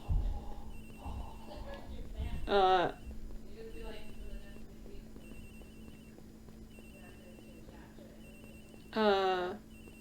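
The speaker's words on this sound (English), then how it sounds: "Better find that cell phone fast." Cell phone ringing in the Ace Attorney Investigations video game, two short bursts of a warbling electronic ringtone several seconds apart over a quiet background hum with faint game sounds.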